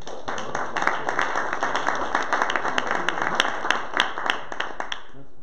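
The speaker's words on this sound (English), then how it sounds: "So a round of applause for Oded," An audience at an Innovare Frankfurt evening event applauding a speaker, a crisp, moderately sized round of clapping that carries steadily before tapering off, with a voice faintly present beneath.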